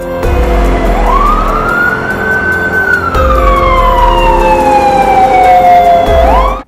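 A siren from one of Punjab's run-down ambulances wails loudly and close by, its pitch sweeping slowly up and down in long continuous cycles over a low engine rumble, with no voices.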